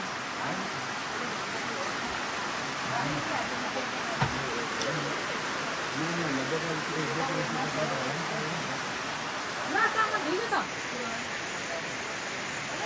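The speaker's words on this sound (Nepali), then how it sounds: "पानी परिरहेछ" Steady rain falls outdoors as a dense, even hiss that lasts throughout, while people talk under the downpour.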